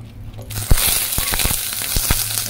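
Onion and capsicum hitting hot oil in a pan, a sudden loud sizzle that swells and holds, with sharp spatula scrapes and taps over it.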